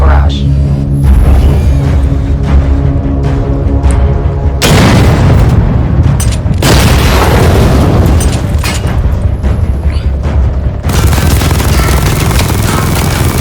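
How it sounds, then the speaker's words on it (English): Missile barrage detonating in the Batman Arkham Knight video game, a loud, continuous wall of booming explosions and rumbling blasts that surge in waves with almost no quiet gaps. "Destroy targets to charge up weapon energy and activate missile barrage."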